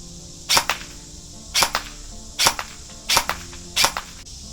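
Lancer Tactical Gen 2 ProLine M4 SPR airsoft rifle firing a five-shot group with a fresh magazine: five sharp, loud snapping shots spaced evenly about a second apart, alone with no talking.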